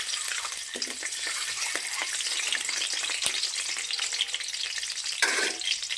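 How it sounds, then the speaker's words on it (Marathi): Sliced onions fry in hot oil in a pan, a steady crackling sizzle with occasional sharper pops and a brief stirring scrape, close and unbroken, with no talking. "कांदे तळून घ्यायचे तेलामध्ये थोडे लालसर आणि तळून घ्यायचे"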